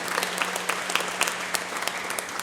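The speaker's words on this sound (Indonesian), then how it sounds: "mari kita tepuk tangan untuk semua keistimewaan kita" A congregation at a Mass applauds steadily, dense clapping with a few sharper individual claps, moderately loud and continuous with no pauses.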